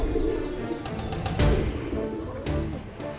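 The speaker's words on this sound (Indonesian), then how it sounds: "Si Faiz sama Fadil mau ngeliat burung abang terbang, Nok." Pigeons coo in soft, low, throaty calls, mixed with scattered sharp clicks and flutters in a lively outdoor setting.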